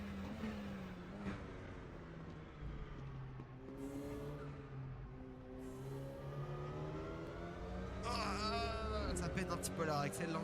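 Alpine race car engine in RaceRoom, droning and revving with rising and falling pitch as the car shifts gears, a steady mid-loud tone under a voice talking throughout.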